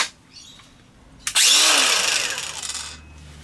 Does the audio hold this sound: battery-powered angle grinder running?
yes